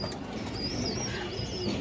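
A pair of Beji pigeons, including a female, give a brief low cooing murmur with faint higher chirps, close and alone without talk.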